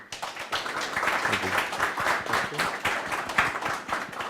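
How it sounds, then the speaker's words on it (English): Applause from the audience for the guest panelists at a talk on urban transport energy efficiency, a moderate patter of clapping lasting a few seconds, with a voice briefly speaking over it. "A round of applause if you could for our guests,"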